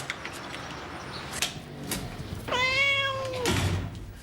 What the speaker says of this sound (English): You shouldn't be sat on the mat, silly cat.